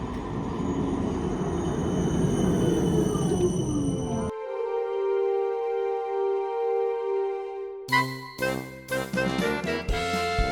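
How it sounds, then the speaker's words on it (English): Rumbling rail noise from a passing tram fades into a steady electric whine as it halts, then chiming bell-like tones ring out. "waiting for a tram to come"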